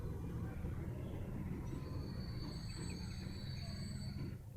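A train running in the video game Transport Fever, steady low rumbling rail noise with faint high squeals of wheels on track, heard quietly and continuously.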